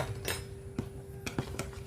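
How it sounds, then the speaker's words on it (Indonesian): A spoon clinks lightly against a bowl several times in an uneven rhythm while stirring ingredients to dissolve sugar, small metallic taps over a quiet background hum. "lalu kita aduk supaya rata dan supaya gulanya juga cair"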